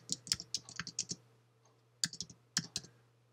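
Quick bursts of key clicks from typing on a computer keyboard in Microsoft Word, two short runs separated by a pause, quiet and close over a low steady hum.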